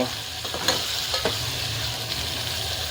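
Tomatoes tossed into onions frying in a pan for pav bhaji, with a steady sizzle and crackle punctuated by a few sharp spatters and stirring scrapes, close and moderately loud.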